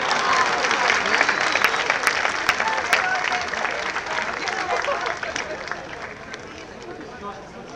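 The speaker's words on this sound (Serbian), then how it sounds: "Molim vas, jedan aplauz za Binu" Dense, sustained audience applause at an evening folk dance concert program, clapping from a large crowd that rolls on steadily for several seconds before easing slightly toward the end.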